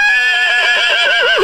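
Small, wet pony neighing outdoors on a moor, a loud, close whinny with a wavering pitch that trembles more strongly toward the end.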